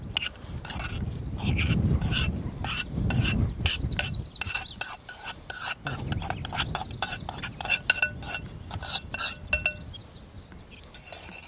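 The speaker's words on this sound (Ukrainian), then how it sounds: "І перемішуємо перемішуємо ось так і, і готуємо" Millet and potatoes stirred in a pot of kulish, Cossack porridge: a spoon scrapes and clinks against the pot in quick, repeated strokes, close and fairly loud, pausing now and then.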